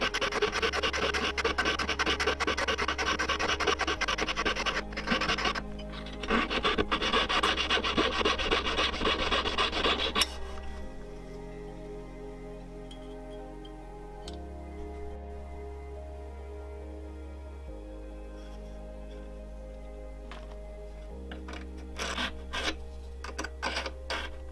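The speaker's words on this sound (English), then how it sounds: "we can cut a line straight down the middle of the raised section." A line is cut into a gold tension ring, producing a steady, close rasping and scraping for about ten seconds, then quieter intermittent scratching over a low hum, with a brief return of rasping near the end.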